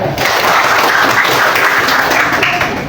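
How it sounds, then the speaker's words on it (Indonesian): Students in a classroom clap together, a brief close burst of dense applause that starts abruptly and fades near the end. "Kalau sudah paham, tepuk dulu"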